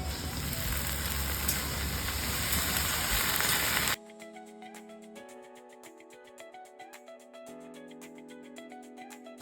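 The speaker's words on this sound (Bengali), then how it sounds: "আমি এবার এর মধ্যে ভেন্ডিগুলো দিয়ে দিচ্ছি" Okra frying in hot oil with green chillies in a pan, a dense loud sizzle for about four seconds that then drops away abruptly to quieter, steadier tonal background sound.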